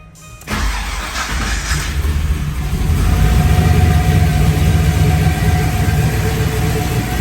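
An LS-swapped car cranks briefly and fires within half a second, then its engine catches and settles into a steady, fairly loud idle that swells slightly before evening out.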